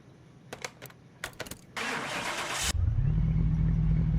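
A Toyota Supra's engine in Car Mechanic Simulator 2021 turns over with a few short cranking bursts, catches into a loud, broadband rev, then settles into a steady, smooth, loud idle.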